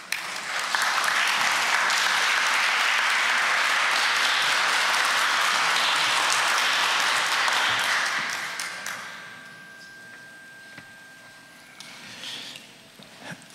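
Strong audience applause at a cultural forum fills the room for about eight seconds, then fades into quieter hall noise with a few scattered claps and light murmurs.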